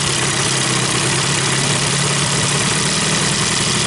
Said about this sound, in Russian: Двигатель сильно колбасит, богатая смесь.